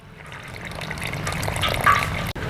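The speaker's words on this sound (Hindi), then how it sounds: "इसके साथ में ऐड कर देंगे इसके अंदर हम 300 ml पानी" 300 ml of lightly warmed water is poured into flour and refined oil for kachori dough, a short splashing gurgle that builds and trickles over a couple of seconds before stopping, with no talking.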